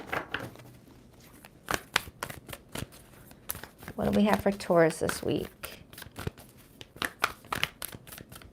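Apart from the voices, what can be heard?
shuffling tarot cards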